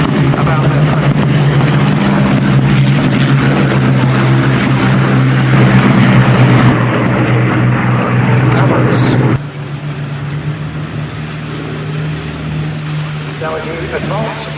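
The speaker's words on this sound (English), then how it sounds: "here's come the German fighters, the Messerschmitt Bf-109s" Messerschmitt Bf 109 German fighters fly past at the Duxford Battle of Britain airshow, a loud continuous propeller-engine roar that drops off abruptly partway through, with a commentator talking over it.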